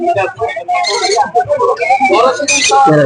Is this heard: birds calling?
yes